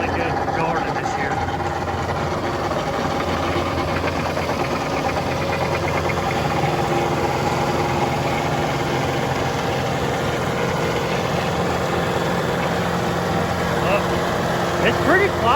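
A John Deere 4052 compact tractor drives a Frontier RT3073R tiller through garden soil, giving a continuous, fairly loud engine drone with a rattling, knocking texture that stays steady the whole time.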